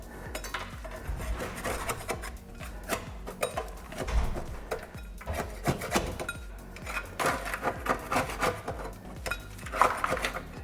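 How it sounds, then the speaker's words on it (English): A putty knife scrapes packed grass clumps off the metal deck of a Husqvarna YTH riding lawn mower, giving repeated close rasping and scraping strokes with metallic clinks throughout. "you can just take a putty knife and scrape all that off"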